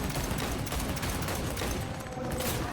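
Continuous dense gunfire from a first-person shooter set in Cyberpunk 2077, a loud, steady wall of rapid shots and mechanical clatter with no clear gaps.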